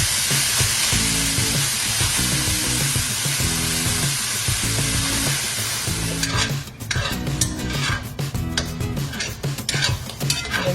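Food fries in butter in a pan with a constant loud sizzle, while a utensil stirs and scrapes against the pan in a regular rhythm; the hiss thins partway through as the stirring clatters more sharply, with no talking.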